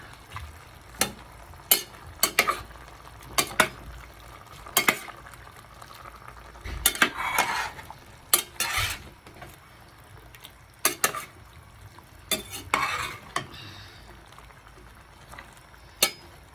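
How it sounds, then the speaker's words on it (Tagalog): Vegetables being stirred in a cooking pot, a spoon scraping and knocking in irregular bursts over a low simmering sizzle, with no voices. "Hahaluin natin para pantay ang pagkaluto."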